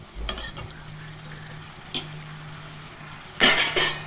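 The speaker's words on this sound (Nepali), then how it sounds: "अब चाहिँ यसलाई राम्रोसँग चलाउने" Snake gourd curry being stirred in a pan: a few scraping and clinking strokes of a utensil against the pan over a low simmering background, with a louder burst of scraping near the end.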